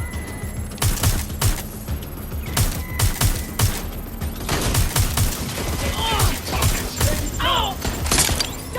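Gunfire in the video game Watch Dogs Legion, rapid bursts of shots cracking through much of the stretch, with a voice calling out over the battle and other game noise.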